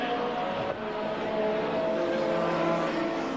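Engine drone of 1990 touring cars racing, a front-wheel-drive Vauxhall against a rear-wheel-drive BMW, heard as a steady sustained roar with layered engine tones that carries on without a break.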